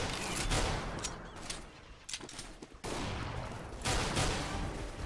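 Rapid gunfire from a CS:GO deathmatch fills the whole stretch, loud and dense, with bursts of shots layered on each other and a brief lull near the middle before the firing resumes just as heavily.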